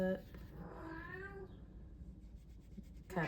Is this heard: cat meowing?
yes